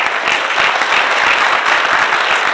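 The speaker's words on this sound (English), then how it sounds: "I think we clap for them." A room full of audience members applauding together after a Q&A session on leadership, with dense, steady clapping that stays loud and continuous throughout with no voices on top.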